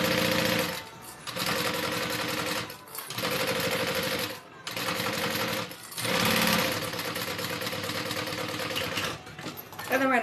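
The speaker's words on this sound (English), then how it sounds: "Then I'm going to sew that down." A sewing machine runs in long, loud stitching bursts on a backpack, broken by a few brief stops, with speech faintly present underneath.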